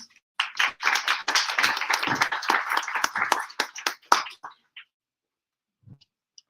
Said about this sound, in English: Big applause here, please